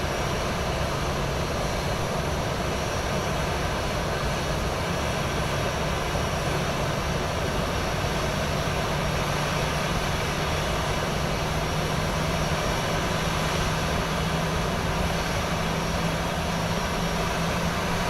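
Boeing 737-800 engines roaring at takeoff in Microsoft Flight Simulator 2024, heard from inside as a dense, constant loud rumble and hiss with a faint steady tone, no voices.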